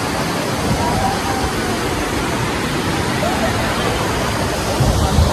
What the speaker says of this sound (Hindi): आज हम बरुआ सागर के झरने आए हुए हैं